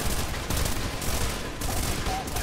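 Bolt gun firing in the shooter video game Trepang2, a loud, dense barrage of overlapping blasts and explosive bursts that continues without pause for a couple of seconds.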